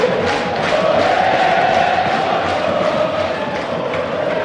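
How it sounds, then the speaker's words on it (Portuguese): Palmeiras supporters roaring and chanting throughout a stadium during a Brazilian Série A football match against Sport, a dense, loud, continuous crowd wash with no breaks. "O torcedor do Palmeiras grita, vibra"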